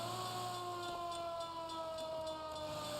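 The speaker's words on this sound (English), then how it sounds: "It's got the best siren." Fire engine siren in the 1940s Los Angeles crime game LA Noire, a loud continuous wailing tone with gliding pitch over steady vehicle noise, no voices.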